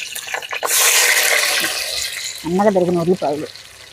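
Thinly sliced onions and slit green chillies hit hot oil with a sudden loud hissing sizzle that fades after about a second, followed by a brief voice.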